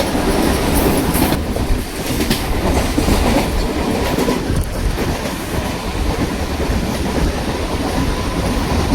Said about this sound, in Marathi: दादर ट्रेन आलेली आहे